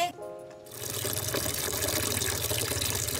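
Water is drawn or poured, opening with a brief tonal sound before a steady, close gush of flowing and splashing liquid that continues without speech.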